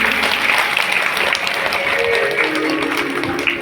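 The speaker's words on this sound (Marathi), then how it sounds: "एकदा जोरदार या बाळासाठी टाळ्या होऊ द्या." Audience applause for a child playing Lord Ganesha at a devotional Shiv Mahapuran katha gathering, a steady dense clatter of many hands sustained at even loudness throughout, with no talk over it.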